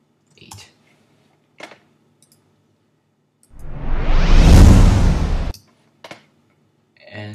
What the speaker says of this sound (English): And so we have our swoosh sound effect